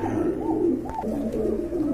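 Several pigeons coo continuously at a pigeon seller's stall, a steady low throaty warble layered from more than one bird, fairly close and unbroken by talk.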